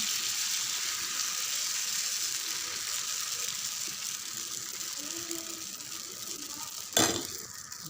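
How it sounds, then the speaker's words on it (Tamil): Dosa batter sizzles steadily on a hot tawa, a soft continuous hiss heard close up, with a sharp clatter of a utensil near the end. "தோசை கல் வச்சுருக்கேன், நம்ம அப்படியே தோசை ஊற்றிடலாம்"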